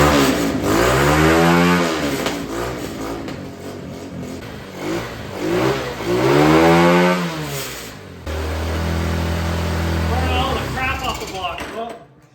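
A quad bike engine sputtering into life and being revved, rising and falling throttle sweeps twice, then settling into a rough uneven idle with a rattling, misfiring quality, close and loud.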